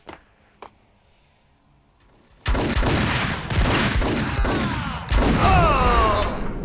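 Loud gunfire erupts in the video game Max Payne: a couple of sharp isolated shots, then sustained close bursts of shooting with clattering impacts that keep going to the end.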